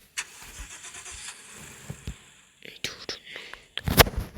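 A fire truck engine in the Roblox video game starts up and revs in short bursts, ending in a louder surge, while a player talks softly over it.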